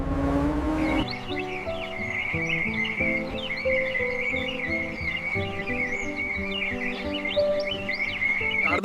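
Birds chirp in quick, repeated bursts near the Sharda canal, bright calls layered over a sustained tonal musical background.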